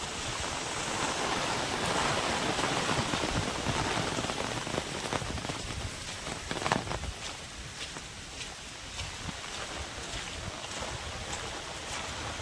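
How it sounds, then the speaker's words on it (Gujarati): Steady, dense rain pours down continuously on a farm with muddy ground, a broad hiss of drops hitting surfaces with no voices, staying loud throughout. "અત્યારે વરસાદ ચાલુ છે ને કિચડ થઈ ગયું છે બધે"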